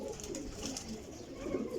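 Pigeons give soft, low cooing murmurs, quiet and continuous over a short stretch.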